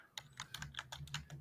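Fingers type on a computer keyboard in quick, uneven bursts of soft key clicks, about ten presses in a second and a half, faint and close with a low background hum.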